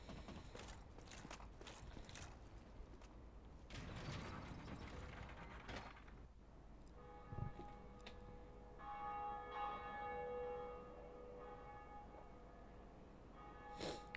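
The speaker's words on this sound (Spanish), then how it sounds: "Ahora sí veo normal que suene la campana." A church bell in the Dark Souls video game rings as sustained tolling tones amid clanking, ratcheting mechanism sounds. The sound is quiet and stands alone.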